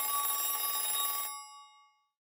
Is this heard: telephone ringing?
yes